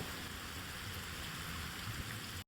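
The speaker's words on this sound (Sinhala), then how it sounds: "හොඳටම වහිනෝ වෙලාවට තමයි පාලමයටට ආවේ" Heavy rain pours down near a bridge in an even, dense wash of drops hitting surfaces, continuous and fairly close with no break until an abrupt cut at the end.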